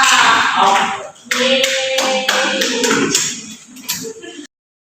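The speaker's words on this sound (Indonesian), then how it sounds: "tepuk tangan buat Mbak Okta" Applause in a classroom during a microteaching lesson: a group claps in uneven bursts of sharp, close hand slaps, with voices mixed in, before it stops abruptly.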